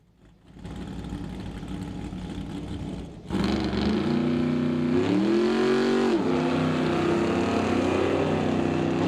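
Ford Mustang and Chevrolet Camaro drag race cars roar off the line at a test-and-tune session, a steady engine drone leaping louder at about three seconds into a sustained rising howl with gear-change dips, no talk.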